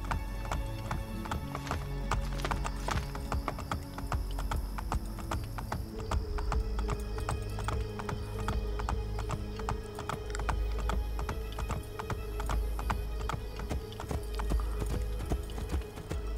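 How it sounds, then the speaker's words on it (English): Steady clip-clop of horse hooves on hard town streets in Assassin's Creed Brotherhood, close and continuous, with a horse whinnying now and then over a busy background. "I'm allowed to ride my horse in town now, huh?"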